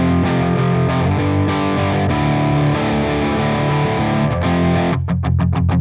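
An electric guitar runs through an Archetype Rabea amp with the reverb switched off, giving a loud, heavily distorted sustained chord passage that ends in a quick run of sharp, chugging palm-muted hits.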